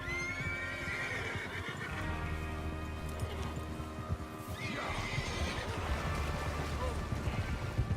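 Horses in the Western video game Red Dead Redemption 2 whinny and neigh as hooves clip-clop, layered over a steady rumbling game soundscape with background voices, the calls moderately close.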